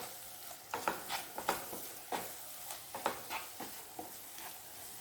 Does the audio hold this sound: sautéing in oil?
yes